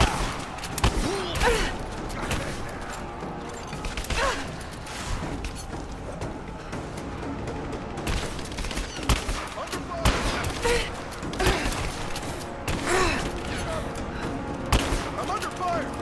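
Gunfire in the video game Rise of the Tomb Raider, repeated bursts of shots and clattering fusillades across a busy firefight, some shots loud and near, with voices shouting between them.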